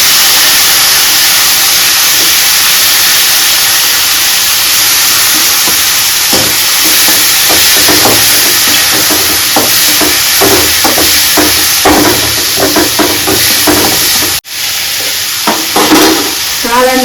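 Mushrooms for a mushroom kulambu fry in a pan, giving a loud, constant sizzle and hiss with repeated stirring scrapes that grow busier midway, and no talking.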